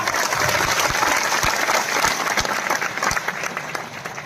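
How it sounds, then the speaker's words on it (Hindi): Loud, dense applause from the crowd at a Hindi poetry recital by Hariom Panwar, a thick, sustained roar of many hands with a few sharper claps standing out, easing slightly toward the end. "एक बार तालियां उठाइए, जोरदार तालियां"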